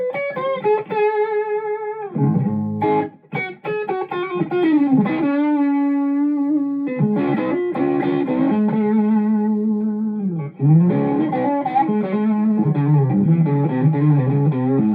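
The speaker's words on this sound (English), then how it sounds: "And now the distortion." Electric guitar played through a distortion pedal on a pedalboard, with a treble boost engaged, gives sustained, harmonically rich overdriven notes and chords, one riff phrase after another, loud and alone without talk.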